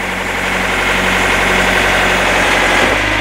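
A Kubota engine on a Loadmac 225/825 truck-mounted forklift runs steadily at idle, a loud, close, even mechanical drone with a slight drop near the end and no voices.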